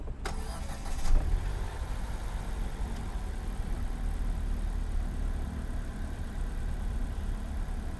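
A Ford EcoSport cranks briefly and catches, then settles into a steady, close, even idle that runs on alone without any talking.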